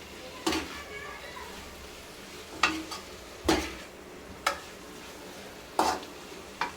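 Chilli potatoes with added sauces are stirred in a pan, with a soft sizzle underneath and about seven sharp scraping knocks of a spoon against the pan at irregular intervals.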